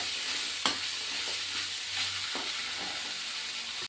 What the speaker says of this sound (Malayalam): എന്നിട്ട് നന്നായി ഇതൊന്ന് ഇളക്കി കൊടുക്കാം